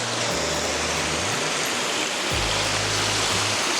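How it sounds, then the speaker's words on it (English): Water rushes steadily and loudly around a lazy river at a campsite pool in the Vendée, with a constant broadband wash and a low mechanical hum beneath it. "We've got the lazy river round the outside."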